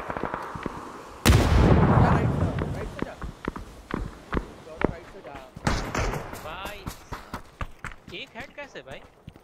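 Bursts of rapid gunfire crack repeatedly in PUBG on the Miramar map, starting with a loud blast and continuing as sharp shots under excited talking.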